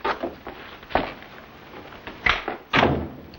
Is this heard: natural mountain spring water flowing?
no